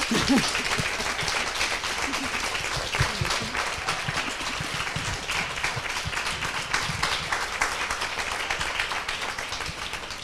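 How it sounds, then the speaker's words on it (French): An audience applauds steadily after an evening talk with a principal dancer of the Paris Opera, a dense even clapping that holds for about ten seconds. "On peut l'applaudir."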